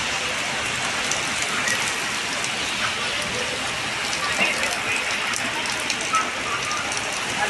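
Strong wind and heavy rain in Atmakur, a dense, even hiss of rain on surfaces with scattered drops and gusts continuing for the whole stretch.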